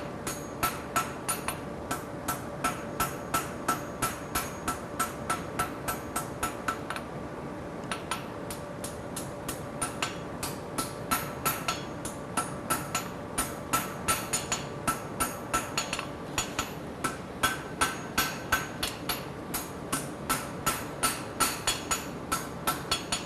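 A hammer rings against metal on an anvil while forging tongs, in a long, steady series of sharp strikes, evenly paced with brief pauses, close and clear.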